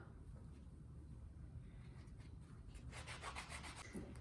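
Leather edges of a saddle bag being sanded by hand, a faint scratchy rubbing that grows into quicker strokes near the end, alone without talk.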